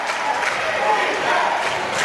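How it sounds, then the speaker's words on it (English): Home crowd of Panther fans roaring steadily at a girls varsity high school basketball game in overtime, St. Mary's against Salesian, a dense continuous wash of cheering and yelling throughout. "This Panther crowd really letting the Pride hear it."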